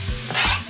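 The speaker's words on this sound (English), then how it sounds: "Garlic in." Garlic drops into a hot pan and sizzles in a short burst, with a brief stirring scrape over steady frying hiss, close and fairly loud, no voices.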